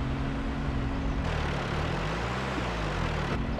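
A John Deere tractor engine from Farming Simulator 22 drones loudly and steadily, then its pitch drops as the revving shifts partway through and climbs back near the end. No one speaks over it.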